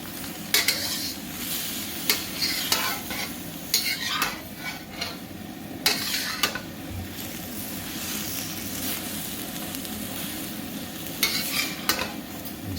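Shrimp and scallops are stir-fried over high heat for drunken noodles, with a continuous sizzle broken by sharp metallic scrapes and clanks as the food is tossed in the pan at irregular intervals.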